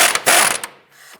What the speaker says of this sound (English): Using a 17mm socket, go ahead and remove this nut.